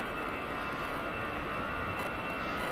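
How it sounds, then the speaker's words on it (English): EasyJet Airbus A320 jet airliner at Edinburgh Airport, a steady distant engine roar with a broad whine, constant and unbroken, with no talk. "here comes our first one, EasyJet's A320."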